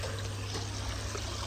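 Water pours from a pipe onto a floor at home, a soft continuous trickling stream that stays steady and fairly quiet through the short moment, with no voices over it.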